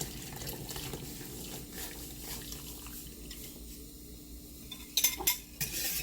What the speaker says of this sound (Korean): 이렇게 해서 저어주면 밀가루가 덩어리가 지지 않아요